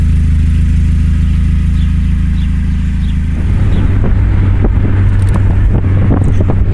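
A Mazda Miata fitted with an ISR exhaust drives on the road, its low engine drone heard from inside with heavy wind buffeting. Partway through, the rumble shifts and grows rougher with sharp crackles.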